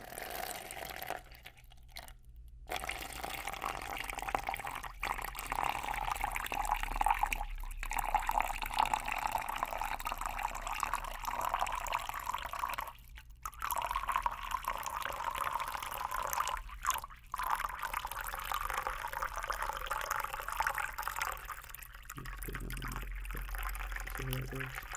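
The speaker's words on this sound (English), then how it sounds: "Here, I'll do a bigger splash one and see if you guys like that one." Water splashes and pours close to a microphone, a sustained wet rushing with short pauses and drips, while a person talks between the splashes.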